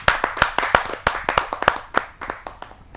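At a kavi sammelan poetry gathering, an audience claps for a poet coming up. The claps are loud, distinct and irregular and thin out toward the end.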